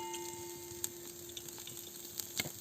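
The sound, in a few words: oil added to hot pan, sizzling, for mutton curry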